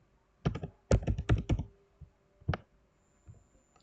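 Typing on a computer keyboard while entering login details: a quick burst of clicky keystrokes, a pause, then a few isolated taps, close and crisp in a quiet room.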